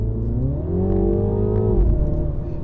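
A 2022 facelift Mini John Cooper Works engine revs up, its tone climbing and holding before dropping sharply, loud and close with a rising whir and no talk.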